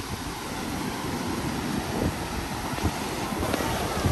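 Strong wind buffets the microphone at the seaside in Rimini, with waves rushing in a dense, steady roar and gusty low thumps throughout.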